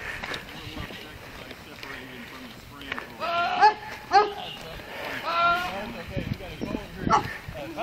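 A goat bleats several times in a backyard in wavering, almost human-sounding cries, rising above background chatter and a faint outdoor hum.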